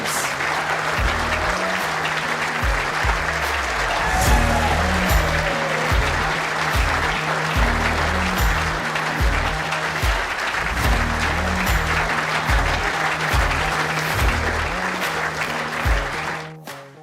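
Sustained applause from a large crowd at an indoor bowls championship final, steady and dense throughout, with low rhythmic music underneath, fading out at the very end.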